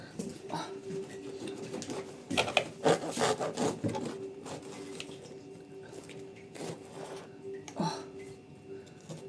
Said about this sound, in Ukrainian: хлібчик ріжемо. О, не той ніж, дай мені того зубчиками.